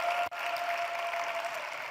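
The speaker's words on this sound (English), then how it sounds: "So here's a big applause to being here at Women Deliver in person here" Audience applause at the Women Deliver conference in Kigali, Rwanda, a steady dense wash of many hands clapping in a large hall, with one brief dropout near the start.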